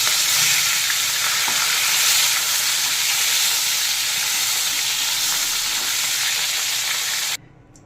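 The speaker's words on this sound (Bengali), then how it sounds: "তেল গরম হয়ে গেছে, এবার পার্শ্ব মাছগুলোকে দিয়ে ভেজে নেব উল্টে পাল্টে।" Parshe fish frying in hot mustard oil in a pan, a loud, dense, continuous sizzle that stays steady and close for several seconds before cutting off abruptly near the end; no talking.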